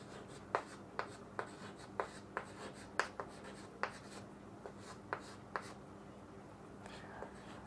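A pen writes on paper during a Class 10 maths lesson on quadratic equations, giving a series of faint, sharp strokes and taps at irregular intervals against quiet room tone.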